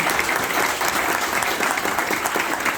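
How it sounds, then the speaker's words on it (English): A crowd at a Puerto Rican Heritage Day community event claps in a thick, even burst of applause, steady and close throughout. "please give them a round of applause"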